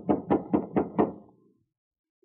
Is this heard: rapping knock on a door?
yes